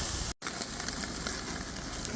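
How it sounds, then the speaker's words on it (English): Ribeye steaks sizzle on a grill in a steady, close crackling hiss, with a brief cut near the start. "Ribeyes. Steaks on the grill."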